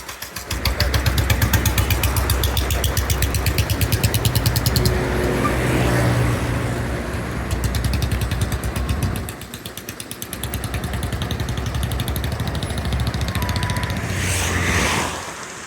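An SETC bus diesel engine labors while the bus turns, with a loud, steady chugging drone and a rapid pulsing rumble that eases and then returns, and no talk over it.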